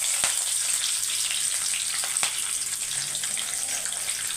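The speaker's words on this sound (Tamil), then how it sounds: "இப்போ பாருங்கள் கடுகு நல்லா பொரிஞ்சு வருது" Mustard seeds splutter in hot sesame oil while tempering for drumstick-leaf podi: a constant close frying hiss broken by sharp, scattered pops and crackles, with no voices.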